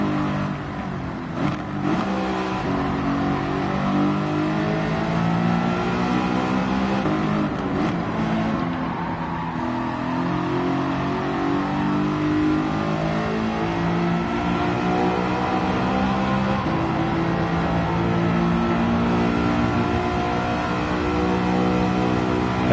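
A BMW racing along in a driving video game, its engine droning and revving continuously at high pitch with shifting tones and brief gear-change dips, loud and steady throughout with no talk.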